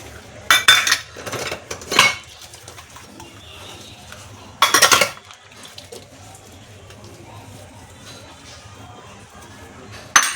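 Dishes, including small bowls, clatter and clink in a few sharp bursts, with a steady low hum of running water and rubbing in between, close by.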